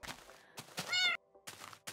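Small cats in the Minecraft video game meowing, several short high-pitched calls in quick succession with brief pauses, close and clear with no talking.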